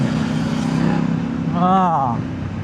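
A CFMOTO 800NK motorcycle engine with a rough exhaust note rumbles steadily nearby while someone talks over it, the rough low drone rising briefly in pitch before easing off.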